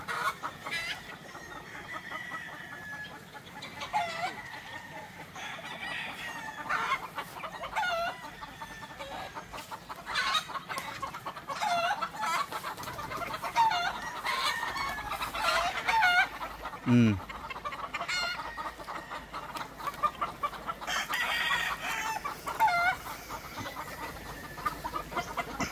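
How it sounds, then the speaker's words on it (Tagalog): A large flock of chickens on a farm's range area clucks continuously, with roosters crowing now and then, a steady busy din of many birds at varying distances. "Sobrang daming manok."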